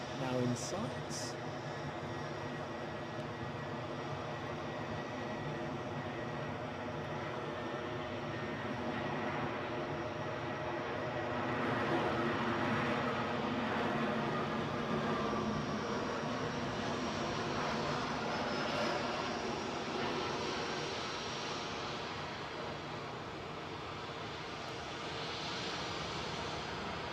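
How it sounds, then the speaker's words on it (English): EasyJet airliner arriving at Edinburgh Airport from Paris Charles de Gaulle, its engines a steady broad roar that swells and fades gently over half a minute, moderately distant, with people talking throughout. "EasyJet inbound from Paris Charles de Gaulle, now in sight."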